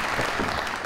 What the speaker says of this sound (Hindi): बहुत सारी तालियां हैं।